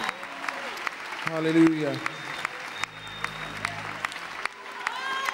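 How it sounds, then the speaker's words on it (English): A church congregation claps along steadily throughout, while a preacher's amplified voice and singing carry over the top of the applause. "Come on, clap those hands."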